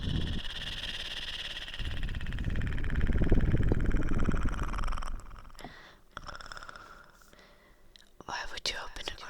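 A voice softly imitates a cat's purr, a breathy rumbling drone that swells and fades, with a few whispery mouth noises toward the end.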